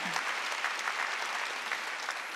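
A church congregation applauding steadily during a Sunday service, a dense wash of many hands clapping at moderate volume without a break.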